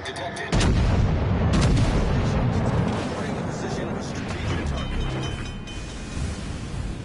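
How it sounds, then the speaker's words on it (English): Naval artillery from warships in the World of Warships game fires in a loud opening salvo, then rumbles and booms continuously under a steady roar for several seconds. "Concentrate fire on the enemy warship."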